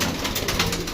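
Pigeons in a loft coo in a dense, continuous, low murmur close by, with nobody speaking.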